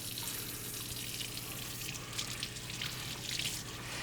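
Tap water runs steadily into a sink while salt is rinsed off brined Cornish hens, a constant soft hiss with faint splashes and drips, fairly quiet and without talk.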